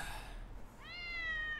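A cat in an anime episode gives a single drawn-out meow, clear and fairly close, rising after a brief stretch of quiet room noise.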